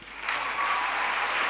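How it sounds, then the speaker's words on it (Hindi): Applause from an audience at a national youth parliament festival award ceremony, greeting the runner-up winners: steady, dense clapping that swells after a soft start and holds loud and even to the end, no voices over it. "जोरदार तालियों के साथ उनको भी आप कंग्रेचुलेट करें"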